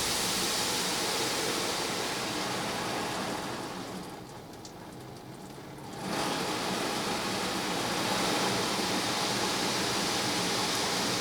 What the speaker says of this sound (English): This might be our spot-free rinse coming on now.